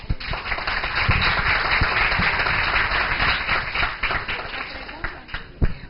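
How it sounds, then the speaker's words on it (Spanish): Audience applause at a Spanish-language conference, a dense wash of clapping that holds steady for several seconds with occasional sharper individual claps and voices murmuring underneath, then thins toward the end. "Un fuerte aplauso, por favor."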